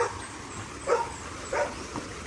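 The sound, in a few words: dogs barking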